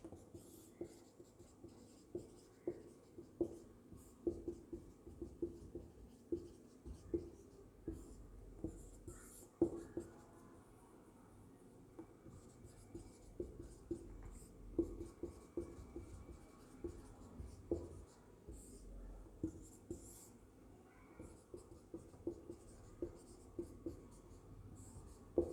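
Pen or chalk writing during a lecture, a quiet steady series of short scratching strokes and taps, close and faint, continuing throughout with no talking over it.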